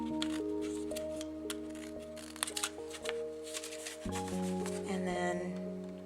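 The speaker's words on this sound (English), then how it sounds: "I'm going to cut this in half because it's a little bit too long" Paper being cut in half with scissors for a wire and papier-mâché corset, a run of close, crisp snips and rustling handling sounds, with a steady tonal hum underneath and no talking.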